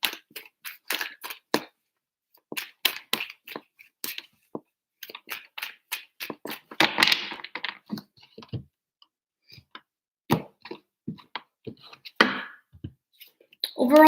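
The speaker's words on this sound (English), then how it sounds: "3 shuffles for Gemini." Tarot cards are shuffled in three bursts of quick, crisp riffling and slapping, close and fairly quiet, with brief gaps between bursts and a few soft card taps.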